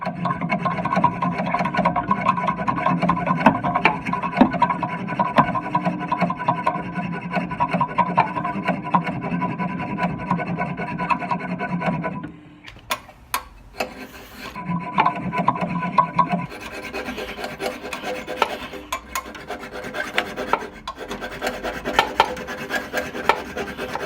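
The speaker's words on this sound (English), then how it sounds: "Instead of cutting through the bolt, we actually cut straight through the nut" Steady, loud rasping of a tool cutting through a snapped exhaust nut on a classic Fiat 500, grinding continuously, briefly stopping with a few clicks and knocks, then resuming its harsh scraping.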